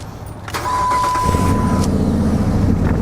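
An oil-burning, misfiring project car engine is cranked and catches, rising from a brief starter whir into a loud, rough, uneven idle close by, with no talking.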